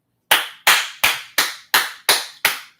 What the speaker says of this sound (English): Ask me why I'm clapping.